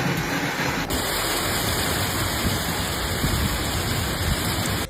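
Heavy hail and rain pounding down steadily during a storm in Sokółka, Poland, a dense, loud, unbroken roar of impacts with no voices.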